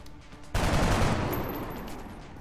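One loud burst of gunfire in XCOM Enemy Within lands abruptly and then rings out as a long, broad roar that fades slowly.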